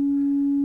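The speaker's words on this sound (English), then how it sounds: "So the settings are sine wave," A pure, steady sine tone from a K3020 dual VCO synthesizer holds one constant pitch for under a second, loud and clean with no other sounds.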